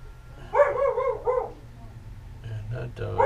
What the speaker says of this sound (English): And that dog never stops.